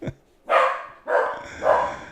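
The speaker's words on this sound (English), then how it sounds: "The dog is going barking." A dog barks three times at close range, each bark drawn out, with a short pause between them.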